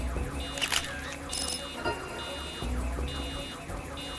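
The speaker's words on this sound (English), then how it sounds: "the sound of a car alarm going off" A car alarm blares in the video game Dead Rising Deluxe Remaster, its electronic tones cycling on and off in repeated bursts over steady background game noise.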